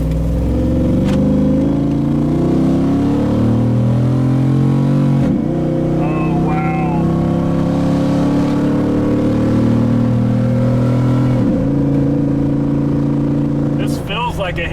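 A 500 HP HEMI-swapped Jeep JK engine on a test drive, with a deep steady drone that climbs through several revving pulls, broken by brief shifts and a few sharp clicks, loud and close.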